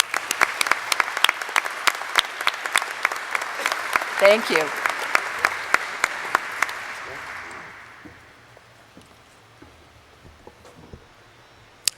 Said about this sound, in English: please join me in giving a round of applause to all of our inductees